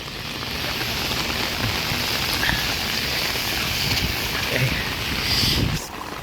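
Steady rain falls during a downpour as floodwater rises, a dense continuous hiss with scattered drop impacts, fairly close and even throughout, briefly easing near the end.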